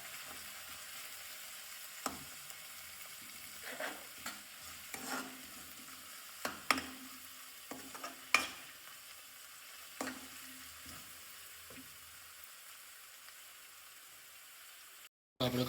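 Fenugreek leaves and chilies frying in oil for a village-style tempered bajra rotla, a soft constant sizzle under scattered stirring clacks and scrapes, quiet and close.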